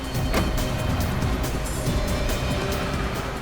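A car is driven fast during a tense getaway, giving a continuous loud roar of engine and road noise with no breaks across the stretch.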